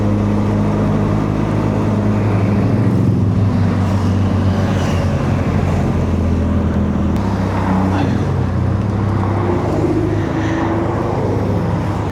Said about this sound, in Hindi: देख रहे हो कितने बाइकर्स आ रहे हैं.